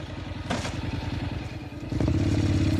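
A motorcycle engine idles with a rapid, even putter, then revs louder near the end as it pulls away, with a brief clatter partway through; no one speaks.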